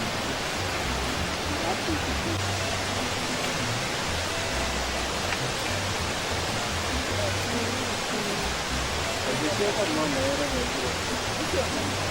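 Steady broadband rush of water flowing through a forest stream in Osomba forest, continuous and fairly close, with a few faint voices and bird-like chirps in the background.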